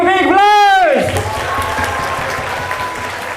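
A raised voice opens, then audience applause breaks out at a school talk show and carries on for a couple of seconds at moderate loudness.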